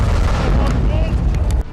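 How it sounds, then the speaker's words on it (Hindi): A loud blast from a grenade placed on a tank in Gaza combat. A heavy, rumbling explosion fills almost the whole clip and then cuts off sharply near the end. "जोरदार धमाके की आवाज आई"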